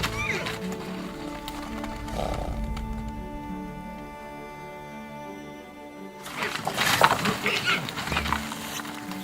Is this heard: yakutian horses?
yes